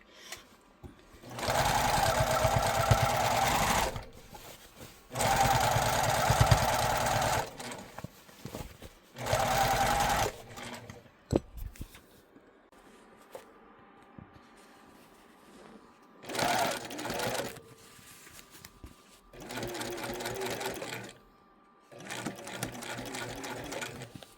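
A sewing machine stitching a hem on jeans, running in several sustained loud bursts of rapid mechanical whirring separated by pauses, close and alone without talk.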